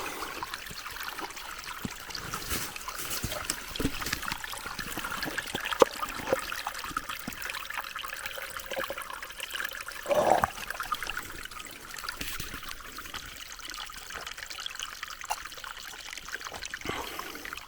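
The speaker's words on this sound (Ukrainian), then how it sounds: "знайшли отакий потічок. Зараз наберемо води." Small Carpathian mountain stream trickling and splashing steadily while water is collected during a hike, a close, continuous watery babble with a few brief louder splashes.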